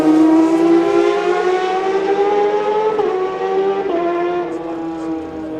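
Suzuki and Kawasaki racing motorcycles in a newcomers road race at Ballacraine howl past, their high engine notes sliding downward in a Doppler drop as they go by, fading gradually toward the end.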